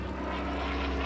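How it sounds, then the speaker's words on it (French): British fighter plane engine roaring steadily and loudly throughout a brief wartime strafing attack on a staff car, with no voices. "la voiture de Rommel est prise pour cible par un avion de chasse britannique"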